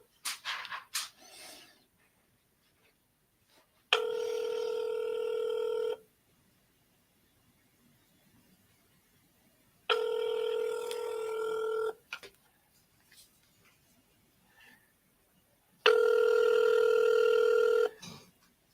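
Telephone call being placed: several clean bursts of ringback tone, each a couple of seconds long with pauses between, heard alone without talk, preceded by brief clicks of dialing.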